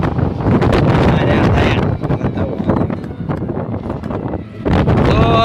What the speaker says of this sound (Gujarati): ઓ અમે વાયરો ખાતા જઈએ